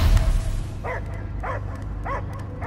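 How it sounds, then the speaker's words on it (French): A dog barks in Marvel's Guardians of the Galaxy video game, three evenly spaced, slightly muffled barks rising over a loud low game rumble and ambience. "J'entends que des aboiements."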